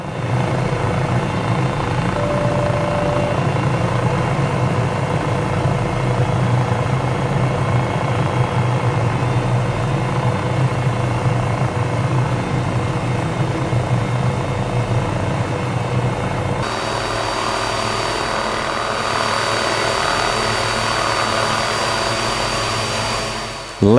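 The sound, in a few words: Cowansim 500E helicopter engine in Microsoft Flight Simulator video game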